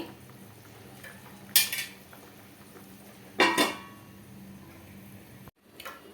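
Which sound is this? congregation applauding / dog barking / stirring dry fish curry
stirring dry fish curry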